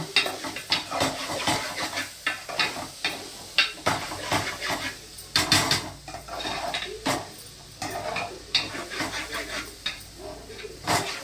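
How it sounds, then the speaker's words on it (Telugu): Chicken pieces being mixed for chicken fry in a metal vessel, with repeated clanks and scrapes of a utensil against the pot in an uneven rhythm, loud and close, with no talk. "చికెన్ ముక్కలకు ఫ్రైకి కలుపుతున్నా, మిక్స్ చేస్తున్నా చూడండి"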